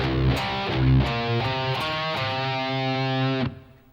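Heavily distorted electric guitar riff: palm-muted low open-string chugs alternating with sustained power chords and a quick note run, loud and upfront, ending in an abrupt stop.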